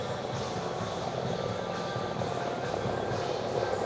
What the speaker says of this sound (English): lot of chopper activity in the air.